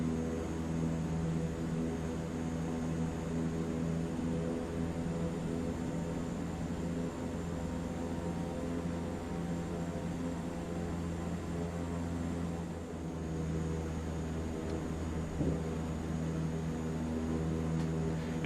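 Super Scooper water bomber plane in Microsoft Flight Simulator 2024, climbing sharply after dropping its water load: a steady, loud droning engine hum with constant tonal layers and no talk.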